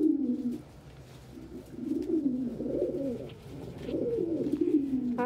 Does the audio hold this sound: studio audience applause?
no